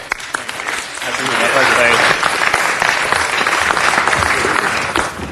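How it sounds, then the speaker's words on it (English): An audience at a city council meeting applauding the visiting New Orleans delegation: loud, sustained clapping from a crowded chamber that swells and holds for several seconds before tapering off. "if we can have a round of applause for our delegation from New Orleans"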